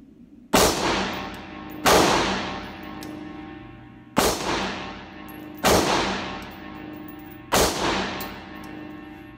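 A Ruger AR-556 MPR rifle fires five sharp, loud shots at an uneven pace, each crack decaying quickly into a short echo.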